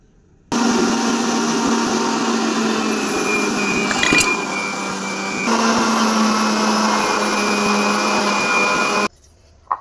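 A mixer grinder whirs steadily for about nine seconds while blending curd, sugar and water for lassi, a loud close motor drone that starts and stops abruptly, with a brief clink midway.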